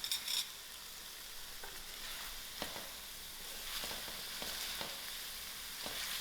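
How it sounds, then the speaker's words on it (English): Mutton curry with salt being stirred and fried in a pot, a quiet continuous sizzle broken by scattered scrapes and knocks of the spoon, close and fairly faint. "I'll give this a good mix"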